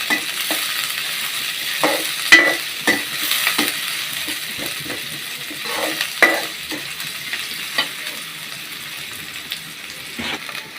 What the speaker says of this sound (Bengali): এগুলো একটু লাল লাল করে ভেজে নিতে হবে।